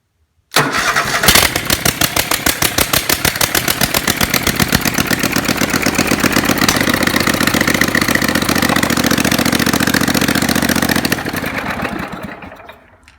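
A Dixon 2560 riding mower engine, freshly swapped in and running without exhaust, cranks briefly, then catches and idles loudly with a fast, even pulsing chug before cutting off and dying away, with no talk.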